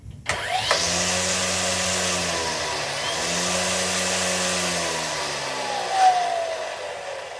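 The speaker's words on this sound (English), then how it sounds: "Let me put it in high speed so it'll release some more string." An EGO Line IQ string trimmer runs at high speed, a steady loud whining motor tone that starts abruptly, dips briefly in pitch and holds, with a small bump near the end and no talk.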